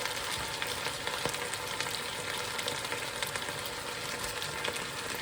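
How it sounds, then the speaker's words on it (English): Onions and sweet peppers fry in a pan for a curry, giving a steady, even sizzle and crackle that fills the whole stretch without voices. "I'm just going to throw in these onions and some sweet peppers."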